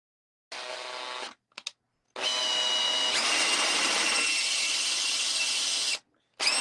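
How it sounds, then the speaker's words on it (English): A power drill whirs in a short burst, stops briefly, then runs in one long steady drive, drilling screw holes in soft wood, its pitch shifting as it bites in. "So I'm going to go ahead and drill these."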